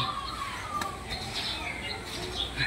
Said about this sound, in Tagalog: Iba't ibang klaseng ibon naririto